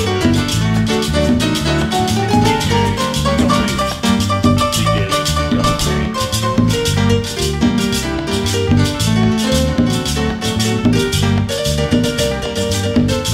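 A live Latin dance band with piano plays a dense, steady groove with bright repeated piano figures over bass and percussion, loud and continuous without any talking.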